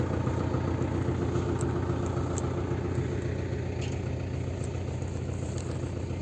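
A Yuto 804 tractor pulling an SZ 3.6 seeder through a wheat field at night runs its engine at a steady, loud, clattering drone, continuous and close, with no talking over it.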